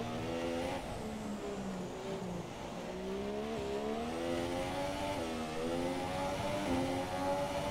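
An F1 race car in the video game F1 2017 at Monaco, its engine revving up and down through gear changes around a hairpin, a steady high-pitched whine throughout with no talk.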